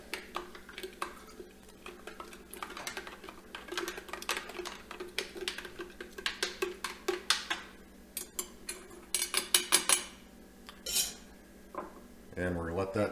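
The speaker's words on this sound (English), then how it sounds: "And we'll just give this a good stir." Metal spoon stirring ground mustard powder mixture in a bowl, a run of quick clinking scrapes and taps against the container, close and fairly quiet, with no talking.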